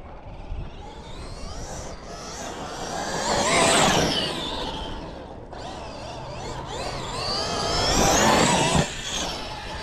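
A Traxxas XRT RC truck with GPM outdrives and aluminum diff cases drives hard outdoors, its electric motor whining in two long rising-and-falling passes as it accelerates, fairly close and loud, with tire and gravel noise underneath.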